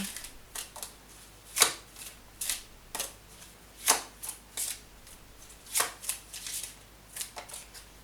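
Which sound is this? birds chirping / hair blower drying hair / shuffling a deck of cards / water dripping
shuffling a deck of cards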